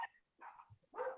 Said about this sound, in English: Can you hear my dogs?